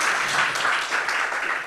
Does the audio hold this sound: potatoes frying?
no